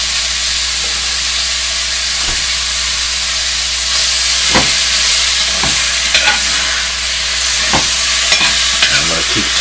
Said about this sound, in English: Keep stirring the pot, keep the beef from sticking.